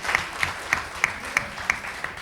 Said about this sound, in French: Donc je vous dis applaudissements à notre cher président.